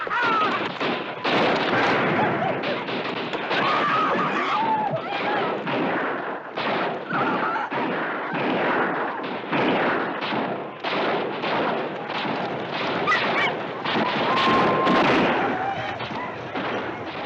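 Dense, continuous gunfire from a western battle scene, with rapid overlapping rifle and pistol shots cracking one after another at close range, loud throughout, with voices shouting in the mix.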